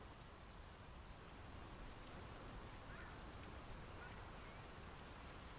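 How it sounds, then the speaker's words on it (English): Steady rain falling in the video game Draugen, a dense continuous hiss of drops on surfaces that holds at an even level throughout, with no voices. "The rain's picking up."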